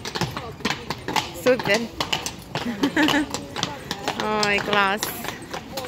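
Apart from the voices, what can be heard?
horse hooves clip-clopping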